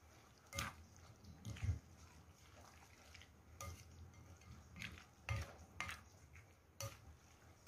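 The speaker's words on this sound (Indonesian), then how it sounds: "Ini kita akan campurkan ikan dengan bumbunya sampai semuanya tercampur rata ya bun." Fish being mixed with spice paste in a bowl by hand or spoon, soft wet stirring with intermittent clinks and knocks against the bowl, quiet and close, no talking.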